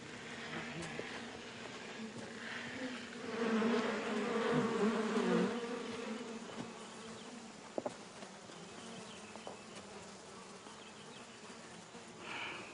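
Bees from rural hives buzz in a soft, continuous drone that swells for a few seconds in the middle before settling back to a low hum, faint and outdoors with no talk.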